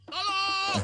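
A goat gives a single short, wavering bleat, close and clear, ending abruptly, with a voice crying out for help over it.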